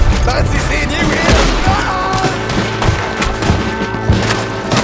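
Rapid gunfire in the Western open-world game Red Dead Redemption 2, a dense fusillade of close, loud shots cracking over one another with no pause throughout.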